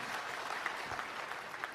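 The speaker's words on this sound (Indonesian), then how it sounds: "tepuk tangan sekali lagi untuk Pak Soekardi" Applause from an audience at a National Teachers' Day speech, steady soft clapping heard from a distance, even and sustained across the short stretch.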